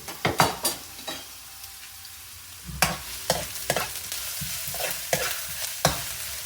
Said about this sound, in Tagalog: gigisahin natin yung luya